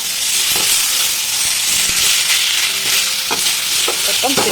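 Pieces of meat and potatoes sizzle loudly in a hot pan, a steady hissing fry broken by scraping, clattering stirs of a utensil against the pan.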